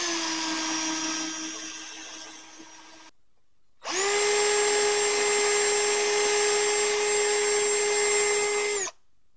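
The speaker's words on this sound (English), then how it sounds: "we are going to take our drill. I got a 1/8 inch drill bit here" A power drill with a 1/8 inch bit whines into a model railroad track frog in two bursts, a shorter one, a brief pause, then a longer steady run at high speed that cuts off abruptly.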